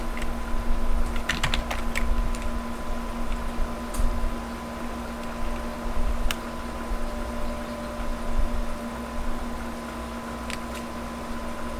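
Keys clatter on a computer keyboard as a Linux install command is entered, bursts of quick clicks clustered early then scattered, over a steady electrical hum and room noise.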